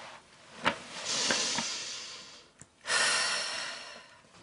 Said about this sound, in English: Exercise and breathing for mums-to-be.